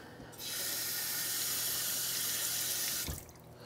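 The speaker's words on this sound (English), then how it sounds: "We'll rinse this off." Tap water runs steadily into a kitchen sink as zucchini or butternut squash is rinsed, a close, even hissing rush that starts abruptly and cuts off after about three seconds.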